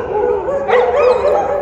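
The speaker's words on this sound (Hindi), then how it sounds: "देखो भाई ये होगी कुत्तों में लड़ाई" Dogs fighting let out a short, loud burst of yelping and whining howls, close by, rising sharply partway through before trailing off into a strained whimper.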